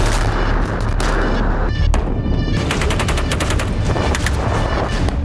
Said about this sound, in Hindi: 155 mm की ये K9 तोप 30 सेकंड में 3 गोले दाग सकती है।